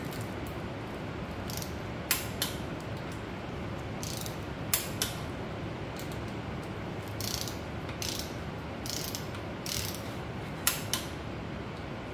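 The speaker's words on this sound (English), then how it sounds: "Now we just start torquing them down." A ratchet wrench clicks in short bursts while bolts are torqued down in a crisscross pattern on a Cadillac 500 short block, quiet and close, the bursts separated by pauses of low background hiss.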